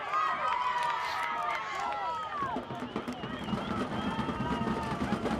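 A home crowd at a boys high school soccer match in Mineola roars and cheers in a loud, sustained wash of voices, with a commentator speaking over it.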